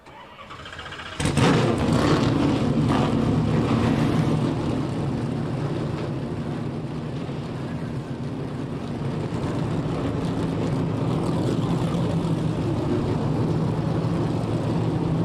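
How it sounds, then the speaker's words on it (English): Trans Am TA2 race cars fire up their engines together at the start of a SpeedTour feature, a sudden burst into a loud, sustained low rumble of many engines idling and revving, with no talk. "drivers, start your engines."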